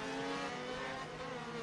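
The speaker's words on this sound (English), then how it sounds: "do you hear, like, I don't know if it's a rev limiter or some a motor going" A race car engine held at its rev limiter at a speedway, a continuous high-pitched drone at steady revs, buzzing with dense harmonics, heard from a distance without a break.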